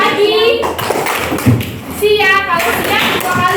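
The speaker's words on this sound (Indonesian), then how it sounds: "Kalau misal ibu bilang pagi, tepuk tangan sekali ya" Children in a classroom clap their hands during a call-and-response chant, a few sharp claps between a woman's and kids' spoken calls, close and lively.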